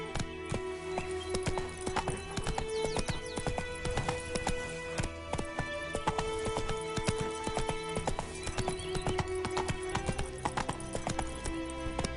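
Roach the horse gallops in The Witcher 3 with continuous rhythmic hoofbeats, a whinny, and game music layered over it.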